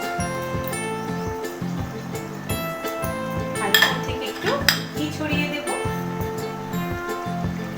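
Fried paneer pieces go into a pan of potato and ridge gourd curry, with repeated metallic clinks and scrapes of spoon against pan over steady tonal background music.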